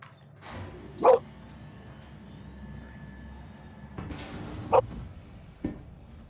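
A dog lets out two sharp, loud barks a few seconds apart, followed by a softer yip, against quiet room noise with no talking.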